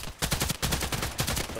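Rapid automatic gunfire in the online shooter Contract Wars, a quick loud burst of closely spaced shots with brief gaps, heard alone without talk.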